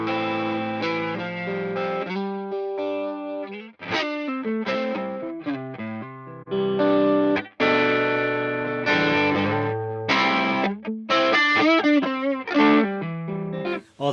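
Electric guitar played through a Two Notes Torpedo Captor X with twin track delay and a Vibrolux-like amp tone: distorted chords and riffs in choppy phrases with short gaps, each trailed by doubled echoes, loud and alone.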